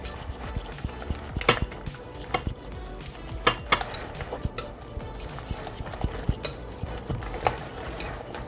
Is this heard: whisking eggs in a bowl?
yes